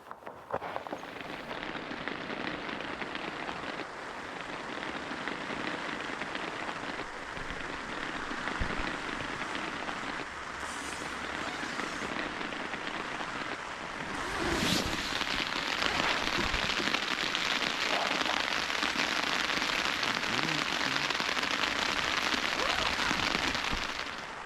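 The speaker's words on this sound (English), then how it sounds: "It was a really rainy night" Rain falls at night on a tent during a motorcycle camping trip, a steady patter and hiss that holds throughout, growing a little louder and heavier partway through.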